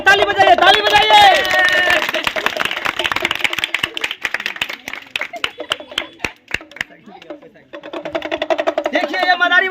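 Crowd clapping at a street madari show, a burst of sharp claps under loud shouting voices, thinning to scattered claps before the talking resumes.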